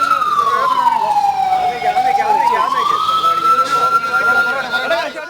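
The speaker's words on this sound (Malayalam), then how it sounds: "അമ്പലപ്പുഴ മോഡൽ ഹയർ സെക്കൻഡറി സ്കൂളിൽ ആദ്യ സൈറൺ മുഴങ്ങി" A civil defence mock drill siren at a higher secondary school in Alappuzha, Kerala, wailing loud and close in one long rising and falling sweep that fills the whole stretch.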